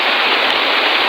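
Heavy rain pours steadily onto flooded rice paddy fields, a loud, dense, unbroken hiss with no voices.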